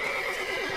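A horse whinnies in The Witcher 3: Blood and Wine, a shrill, wavering neigh with a faint clip-clop of hooves beneath it, fairly close and heard alone without any talk.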